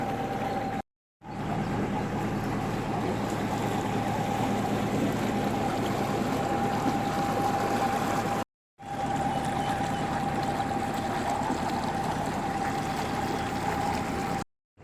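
A boat cruising toward Waverton gives a steady low engine drone with water rushing past the hull, continuous and fairly close, cut by two brief silences.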